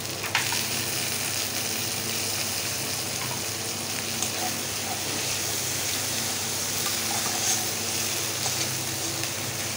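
Tomatoes go into a pan of sizzling ginger and garlic, and a dense, even frying hiss with soft stirring continues close and steady throughout.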